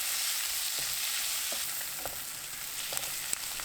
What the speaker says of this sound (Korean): 버터 1큰술, 골뱅이, 구운 소금 3분의 1큰술 넣고 센 불로 2분 볶아주세요.